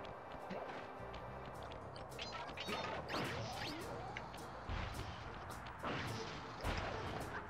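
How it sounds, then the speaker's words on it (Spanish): Glass windows smashing in Sly Cooper HD, repeated sharp crashes and impacts over busy, noisy game sound, several bursts spread across the stretch at moderate loudness. "Era evidente que podía romper los cristales."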